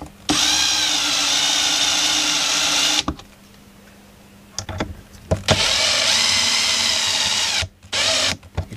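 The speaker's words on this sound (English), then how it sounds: "I'll just ease those in with the battery drill." A battery drill driving screws into an Acoustic Research AR8 speaker woofer during refoaming, with three bursts of loud whining motor separated by pauses and brief clicks, close up.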